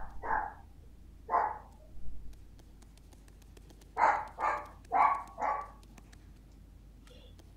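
A dog barks in the video game Ghost of a Tale, set in catacombs: two separate barks, then a quick run of four more a few seconds later, moderately loud over a faint ambient hum.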